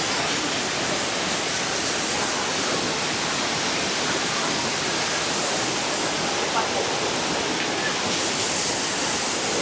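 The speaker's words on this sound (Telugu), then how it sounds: "వాటర్ ఫాల్స్ ఎంత బాగా పడుతున్నాయో" Chitrakoot waterfall roars in a dense, unbroken rush of falling water, loud and close throughout with no pauses.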